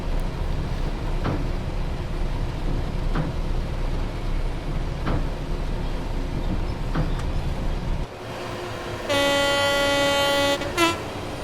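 A DB Cargo freight train rumbles past loudly and continuously, close by with a steady roar, then the noise drops and a long, sustained two-tone horn blares for a couple of seconds before cutting off.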